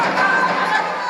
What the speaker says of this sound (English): Their crowd are making noise again.